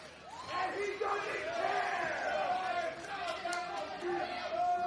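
A sold-out wrestling crowd at Davis Arena roars and chants continuously, a dense, loud swell of cheering voices filling the arena with steady energy.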